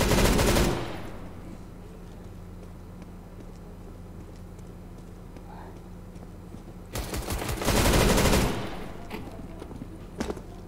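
Automatic gunfire in Counter-Strike: Global Offensive comes in two loud rapid bursts, one at the start and another about seven seconds later, with quieter game ambience between.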